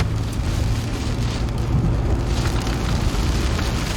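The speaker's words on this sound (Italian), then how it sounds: "Pioggia e vento ci hanno accompagnato per tutto il viaggio e ancora non cedono di intensità" Steady rain and wind roar loudly and without a break around a vehicle during a drive in Tuscany.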